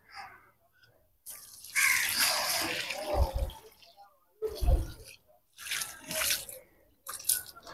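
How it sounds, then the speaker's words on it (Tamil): Water is poured over newly planted seedlings on a farm, arriving in separate splashing, gurgling bursts with short quiet gaps between pours. "நட்டதுக்கு தண்ணி விட்டுடலாங்க."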